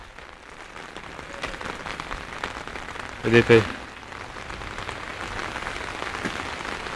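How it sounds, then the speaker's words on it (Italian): Steady rain patters on a surface throughout, with a person speaking briefly over the constant hiss. "piove ancora"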